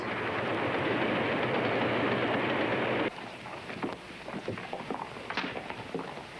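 Train running on rails on the 1870s frontier: a loud, dense rumbling roar fills the first half, then drops to a quieter rattling interior with irregular clanks and knocks.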